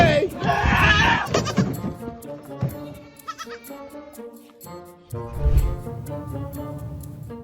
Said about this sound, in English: Did you get stuck, poor goat?